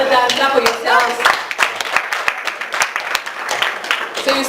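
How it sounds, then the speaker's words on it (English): A group claps for themselves after an exercise routine in a wellness session: a brisk, uneven patter of hand claps lasting several seconds, with voices talking over it. "Clap for yourselves."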